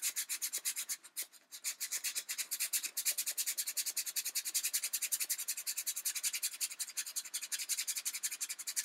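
Hand sanding of a kimekomi ball, a steady rapid rasping rub in quick regular strokes, close and fairly loud, with a brief pause early on before the strokes resume.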